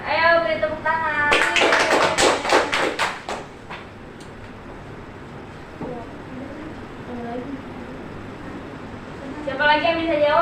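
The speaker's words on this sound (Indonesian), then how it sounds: "Ayo beri tepuk tangan." Schoolchildren in a grade 2 classroom clap together in a brief rhythmic burst of about six claps, then the room settles into quiet murmuring before a voice speaks again.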